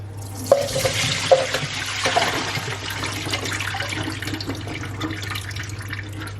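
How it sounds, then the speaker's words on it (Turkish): Boiled potatoes poured into a colander in a home kitchen: a close, steady rush of draining water with a couple of sharp knocks early on, then a continuing splashing flow. "süzgeçimde şu patatesleri bir süzelim"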